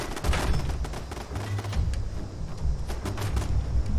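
Automatic turret gunfire in Fallout 76, sustained rapid bursts of shots crackling at moderate distance with a low rumbling undertone, no speech.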